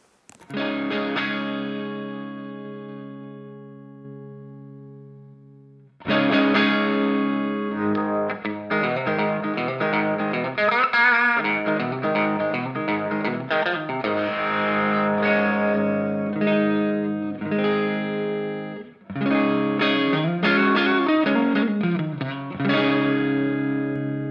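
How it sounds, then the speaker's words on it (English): An electric guitar played through a simulated Vox AC30 amp with a crunchy, overdriven tone and simulated loft reverb, ringing chords and runs with slight sustain, loud and alone. "Here we have a Vox AC30."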